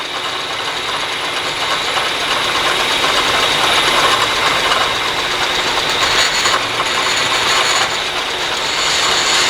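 A ratchet clicks rapidly and continuously while cranking a tractor PTO adjustment down, loud and close, with an engine running underneath the whole time.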